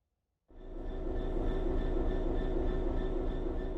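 A BR Class 66 diesel-electric locomotive in Train Sim World 4 starts up abruptly from silence and holds a loud, steady engine rumble with a constant hum and whine throughout, no voices.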